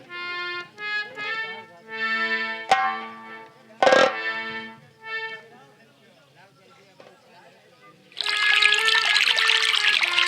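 Drinking water poured out in a short trickling stream near the end, heard after a stretch of talking voices.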